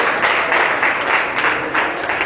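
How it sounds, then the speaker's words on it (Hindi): A packed audience at Kala Mandir hall applauds loudly, a dense, sustained roar of clapping that swells and dips in rhythm throughout. "कला मंदिर जोरदार ताली वाली बजाते रहो"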